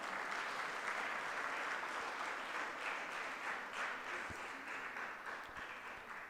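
Audience applause at a school opening ceremony, a steady wash of many hands clapping at moderate distance, sustained and even throughout with no voices standing out.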